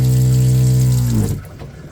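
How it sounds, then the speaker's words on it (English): A loud water pump in a mini camper mounted on a John Deere AMT draws water, giving a steady droning whine that cuts off partway through, followed by softer splashing of flowing water. "That pump is loud."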